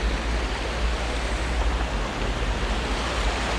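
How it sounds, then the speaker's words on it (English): A Black Forest waterfall near Breisach, Germany, roars as a dense, steady rush of falling water, loud and continuous with no breaks and no voices. "So the Black Forest waterfalls"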